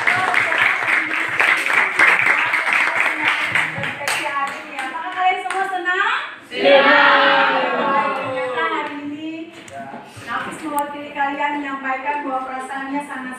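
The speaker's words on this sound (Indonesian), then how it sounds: "Kita berikan tepuk tangan." A short round of clapping from a classroom audience, likely children, rises briefly and then gives way to a young voice speaking and chatter for most of the stretch.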